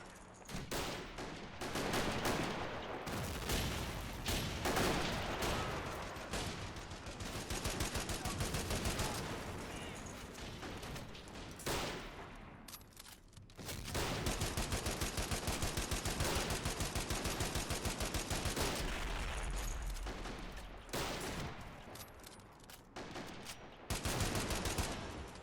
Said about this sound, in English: The machine gun is still active